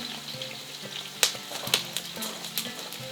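Onions fry in a kazan for kazan kebab, sizzling steadily up close while a utensil scrapes and stirs with a few sharper clinks.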